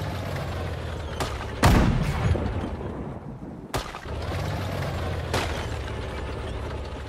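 Infantry gunfire in the video game Sudden Strike 4: a loud crack and booming report, followed by a few sharper shots over a steady background of battle noise and rumble.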